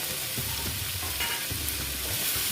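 Pumpkin and potato frying in a pan with panch phoron give a loud, dense, continuous sizzle close up, with a few soft stirring scrapes beneath and no voices.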